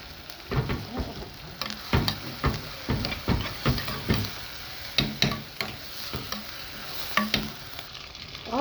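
Green peppers fry in a pan for Egyptian-style liver, sizzling steadily throughout while a spoon stirs them in a regular rhythm of scraping strokes.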